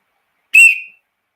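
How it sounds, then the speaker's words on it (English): One sharp, shrill blast from a Metropolitan police whistle, loud and close, lasting under half a second and fading quickly into silence. "I bought a Metropolitan police whistle."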